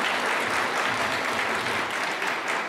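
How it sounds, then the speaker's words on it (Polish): A crowd at a Polish nativity play event applauds warmly, a dense, even wash of clapping from many hands that continues steadily throughout, heard from within the hall. "gorące brawa dla pana Piotra, bo tak znowu się pomyliłem."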